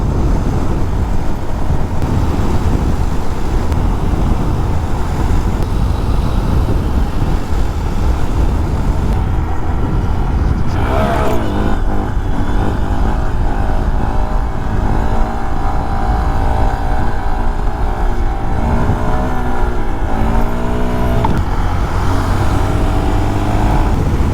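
Mini bikes ridden in a group, one running low on oil, small engines droning and revving continuously with shifting pitch, loud and close with wind noise throughout.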